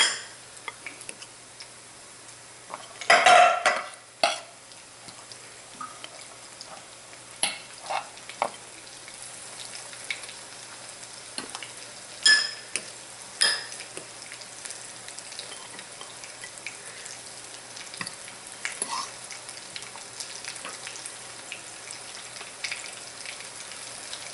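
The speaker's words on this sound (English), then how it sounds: "Make sure you don't burn them, you're just frying them." Chicken for chicken parmesan sizzles quietly in a pan with a steady low hiss, broken by occasional clicks and clatters of utensils, with no talking.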